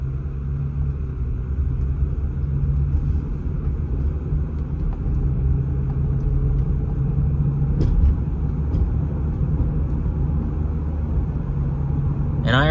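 A Toyota Solara driven fast through a 20 mph residential neighborhood, heard from inside the cabin as a steady low engine and road rumble with continuous tire noise and no speech.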